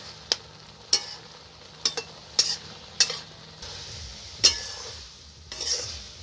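A spoon scrapes through a boiled lentil kebab mixture in a pan, sharp metallic strokes landing irregularly about once a second over a soft background sizzle.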